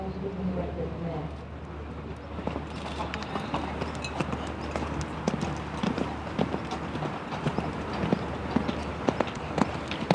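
Hooves of a compact mare clip-clopping steadily in a showjumping round at an event rider masters competition, rhythmic and fairly distant beneath continuous commentary and crowd ambience.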